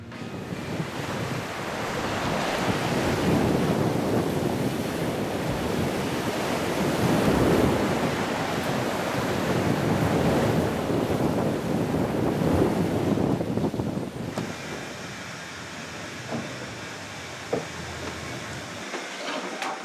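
Heavy 40-knot wind roars across the microphone over crashing waves in the Southern Ocean en route to Antarctica, loud and sustained, easing somewhat toward the end.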